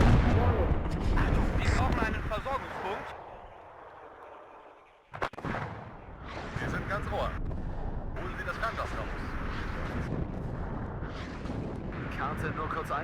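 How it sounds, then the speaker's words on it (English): Mortar artillery in the video game WARNO, heavy booming blasts and rumbling explosions that roll on through most of the stretch, loud and close, with a voice talking over the barrage. "Our mortars have arrived, they'll fire it well."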